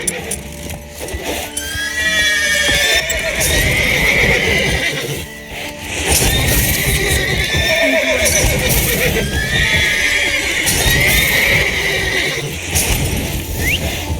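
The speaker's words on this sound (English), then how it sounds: "Gotta calm all the horses before I wake the guards." Horses whinny and neigh repeatedly with clip-clopping hooves in The Witcher 3, loud and continuous across the scene with layered calls over a busy game soundscape; a voice speaks briefly.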